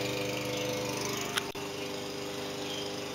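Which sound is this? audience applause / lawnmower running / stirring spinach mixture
lawnmower running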